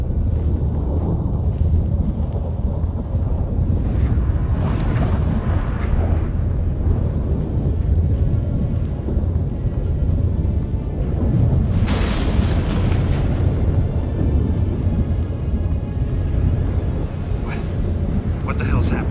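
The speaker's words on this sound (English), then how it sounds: "That a storm?" Storm in The Witcher 3 with a continuous roar of wind and rumbling thunder, sharp bright crashes flaring around the middle and near the end; voices talk over the din in places.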